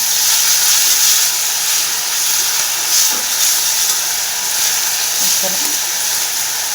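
Green chili paste and chickpeas sizzle in hot oil while being mixed in a pan. A loud, continuous frying hiss fills the clip, with a few faint stirring knocks.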